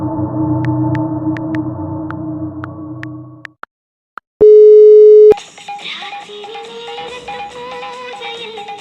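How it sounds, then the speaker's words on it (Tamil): A loud, steady electronic phone-call tone sounds alone for about a second during an unanswered call. Background music plays before and after it, and no one speaks. "மச்சான் கதிருக்கு ஃபோன் பண்றா"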